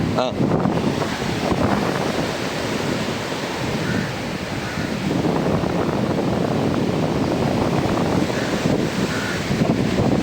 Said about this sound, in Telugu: గాలి గాలి గాలి